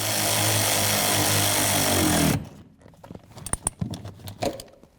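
Power tool driving the center bolt into a rear strut and spring assembly on a 1998-2002 Honda Accord, a loud steady whir for a couple of seconds that stops abruptly, followed by scattered clanks and taps.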